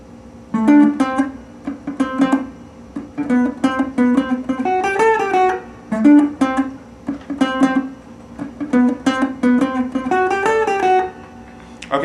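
Funk electric guitar plays a single-note riff in P-Funk style, with choppy, syncopated short notes, bent phrases and muted scratches, loud and close with no voice.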